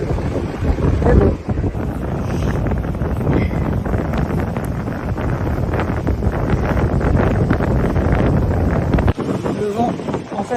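In Iceland a strong headwind buffets the microphone with constant loud roaring gusts, driving sand along an open, exposed stretch. Someone speaks briefly under the wind.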